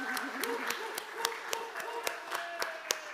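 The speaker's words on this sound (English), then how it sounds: "so we can all give him a round of applause." An audience gives a round of applause at a college faculty assembly for a Junior College Educator of the Year award, a steady run of hand claps filling the room.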